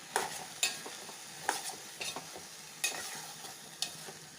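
Curry of beans, onion and cauliflower being tossed in a pan, with about seven crisp scraping strokes over a faint sizzle, close but fairly soft, and quiet gaps between strokes.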